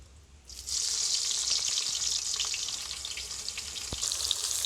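Chopped onion dropped into hot oil and ghee bursts into a loud, steady sizzle that keeps going strong with faint crackles, close up and without any voices.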